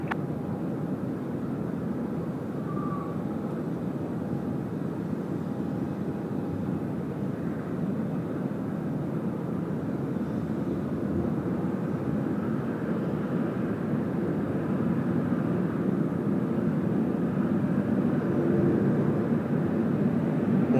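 A Qantas Airbus A380 landing on runway 34 left at Sydney Airport on a windy night: a steady, broad engine roar that holds for the whole stretch and swells slightly toward the end, with no voices.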